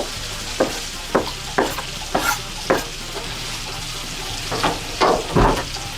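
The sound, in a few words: green onion stirred and frying in Cajun pasta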